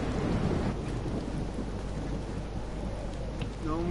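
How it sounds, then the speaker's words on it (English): Heavy rain and rolling thunder from a storm in the video game Life is Strange, a dense, loud, steady roar with low rumbles throughout and a brief tonal sound near the end. "No more storms."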